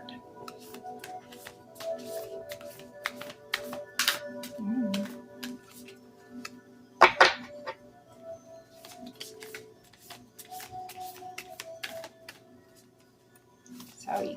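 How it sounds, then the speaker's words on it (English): A stiff, little-used tarot card deck being shuffled by hand close up: repeated dry flicks and riffles in uneven bursts with soft taps, one sharper clatter midway, over quiet background tones and no talk. "you can tell I haven't used this deck very much because it doesn't shuffle very easily"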